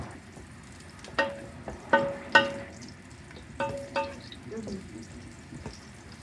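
Food frying in a pan is stirred, with several sharp scraping strokes over a soft sizzle. Onions are about to go in.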